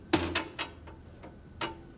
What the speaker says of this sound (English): Let's see if this window can be smashed.